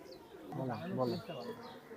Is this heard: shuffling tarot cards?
no